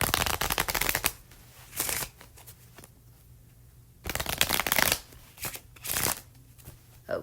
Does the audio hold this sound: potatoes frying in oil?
no